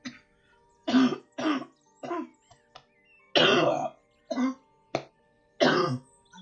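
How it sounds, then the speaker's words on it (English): A person coughs and clears their throat in a series of about seven short, fairly close bursts with brief pauses between them, with no talking. "I felt the need to cough, and I refused to hold it."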